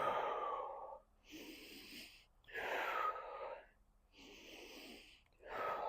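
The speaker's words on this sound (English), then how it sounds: "And if I take those 3 breaths," Slow, deep breaths taken during a rope flow exercise: three long, close, airy inhale-exhale cycles, each full and audible, separated by brief quiet pauses.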